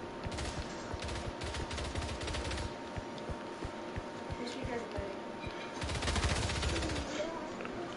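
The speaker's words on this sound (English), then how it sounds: "I'm gonna try an SMG." Rapid submachine gun fire in Avatar: Frontiers of Pandora comes in close, rattling bursts that repeat steadily through the stretch, with a louder cluster near the end over a dense background of game noise.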